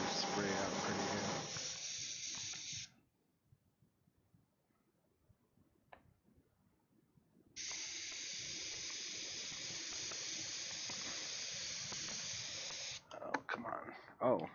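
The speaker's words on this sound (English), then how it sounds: "I'm just trying to get this Maui blue spray out pretty good." An airbrush spraying Maui blue paint onto a Corvette hood liner hisses steadily, stops for several seconds of near silence, then hisses again before sputtering out.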